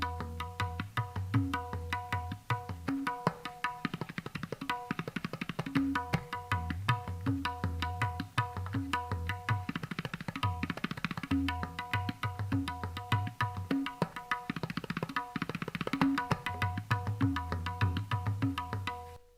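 A tabla plays a basic 'dhati dhaga dhinna gena' beat at a steady tempo: resonant pitched bass strokes and sharp ringing treble strokes repeat in an even cycle for about twenty seconds, close and clear, with no talking.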